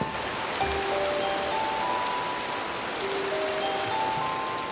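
Steady rain in Minecraft, an even wash of drops pattering continuously throughout with no voices.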